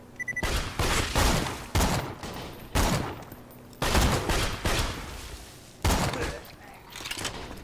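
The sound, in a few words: pistol gunfire in the video game Borderlands 2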